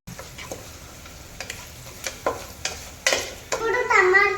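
Turmeric frying in a pan at home while being stirred, with soft scrapes and ticks building into a louder sizzling burst near the end, and a voice faintly present.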